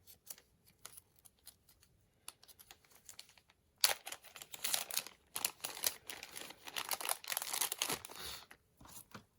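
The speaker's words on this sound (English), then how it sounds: "It's a baggie." A small plastic baggie from a Tonic Studios craft kit crinkles and rustles as it is handled and opened, with light taps first, then several seconds of close, busy crackling and crumpling.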